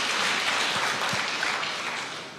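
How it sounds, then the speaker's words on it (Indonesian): A church congregation breaks into lively applause, a dense wash of many hands clapping together that holds steady and then begins to fade at the end. "Oh, berikan tepuk tangan yang meriah"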